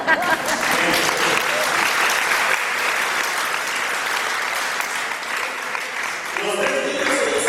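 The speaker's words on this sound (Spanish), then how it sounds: "fuertes aplausos." A church congregation at a parish service breaks into loud, sustained applause, a thick roomful of clapping that holds for several seconds and briefly swells again near the end.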